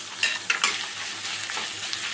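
Chopped onion with a pinch of salt and coconut frying in a pan, a soft steady sizzle with a few light stirring scrapes near the start, fairly quiet and close.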